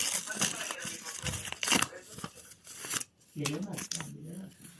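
Pizza packaging is torn open nearby with crinkling, ripping bursts of paper and plastic, and a person talks over and between the tears.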